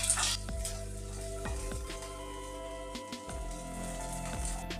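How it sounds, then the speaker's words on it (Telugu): Chopped green chillies, onion and capsicum stir-fry in oil for chilli idli, a continuous close sizzle broken by regular spoon scrapes and taps against the pan, no speech. "దీని 1 నిమిషం పాటు ఫ్రై చేసిన తర్వాత"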